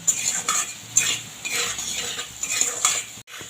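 Potatoes fry in a pan with salt, turmeric and Kashmiri chili, giving a soft sizzle broken by repeated stirring scrapes and clinks of a utensil against the pan. The sound is close and moderately quiet, with no talking.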